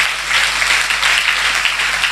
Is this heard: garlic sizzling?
no